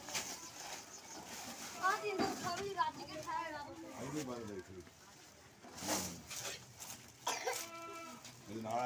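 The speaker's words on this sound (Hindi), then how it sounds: "पंजवें नंबर वाला ये बकरा है," Goats bleat at a busy livestock market in Mandi Bahauddin, with animals on sale. Someone talks loudly over the animals while several wavering bleats rise and fall around him.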